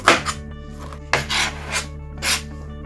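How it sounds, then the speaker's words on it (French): A knife cuts through half a pineapple, making a few close, short rasping strokes separated by pauses, over a low steady hum, with no talk. "Après avoir fini de découper la moitié de mon ananas"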